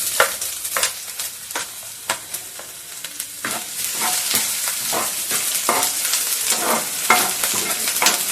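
Ginger garlic paste frying in a pan with sliced pork makes a steady sizzle close by, broken by repeated scraping stirs of a spoon or spatula against the pan.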